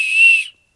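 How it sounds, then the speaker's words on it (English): A single high, steady blast from a cheap plastic camping whistle, loud and close, lasting about half a second before cutting off into silence. "One thing I learned while opening this is they come with whistles."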